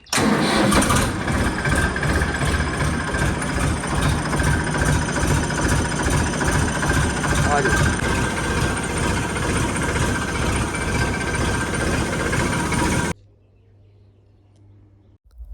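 A Massey tractor engine cranks and catches, then idles with a loud, heavy, rapidly pulsing rumble for about thirteen seconds before cutting off abruptly into near silence.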